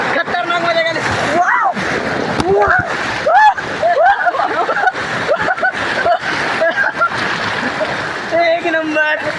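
Water splashes and rushes steadily at Savatkada waterfall, where two falls meet, with loud excited voices and shouts over it throughout.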